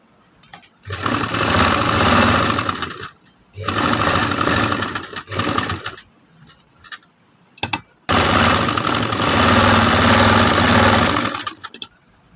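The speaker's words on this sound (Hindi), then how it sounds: "तो इस पर हम यहाँ से यूँ सिलाई लगा देते हैं।" A sewing machine stitches a fabric face mask in three long, loud, close bursts of rapid mechanical whirring, separated by quiet pauses.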